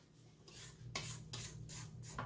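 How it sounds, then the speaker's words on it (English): A spatula scraping down the sides of a mixing bowl of caramel cake batter, several distinct rasping strokes in an uneven rhythm, close and clear with no talking. "Scrape the sides down."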